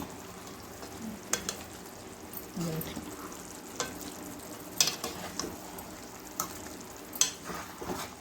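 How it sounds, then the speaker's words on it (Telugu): Fried eggs sizzle quietly in a pan while being flipped, with soft steady frying hiss and a few sharp clicks and scrapes from the turning utensil. "ఇప్పుడు మనం దీన్ని ఎగ్గులను ఇట్లా తిప్పేసుకోవాలి"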